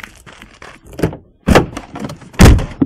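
Door being shut nearby with solid thunks and a sharp slam-like knock, a few distinct impacts spread over a few seconds amid rustling handling sounds.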